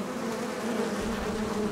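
Honey bees buzz at hives behind a veterans medical center, a dense, steady drone of many insects close by, continuous with no talk.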